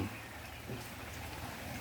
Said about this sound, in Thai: เช้านี้ฝนตกลงมาแบบชื่นใจมาก ๆนะ